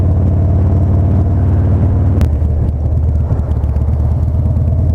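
Motorcycle riding through downtown streets, a steady loud engine drone with harmonic rumble throughout, a brief sharp click near the middle, and the engine note roughening slightly afterward.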